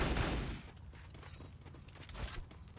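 Gunfire in the Free Fire battle royale game, a loud burst at the start followed by sharper crackling shots and impacts, close and busy with no talk over it.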